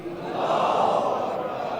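A large crowd at a Muharram majlis in Qandhari Imambargah, Quetta, roars a chanted response to the takbir slogan, a sustained swell of many voices rising and holding for under two seconds.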